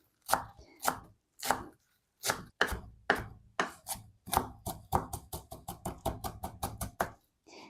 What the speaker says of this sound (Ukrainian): Ось, неймовірна петрушка і нарізаємо